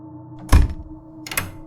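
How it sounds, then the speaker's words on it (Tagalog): A bedroom door in a boarding house is locked: a solid thunk followed a moment later by a second, lighter clunk, close and otherwise quiet. "tumayo na ako at nilak ang pinto ng kwarto"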